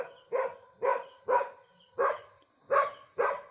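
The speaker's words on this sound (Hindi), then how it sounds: "लगातार दूर से भी कुत्ते भौंक रहे हैं" Dogs bark six times at an even pace, each bark sharp and fairly faint as though coming from some distance across a jungle during a hike in leopard country, with a quiet background between barks.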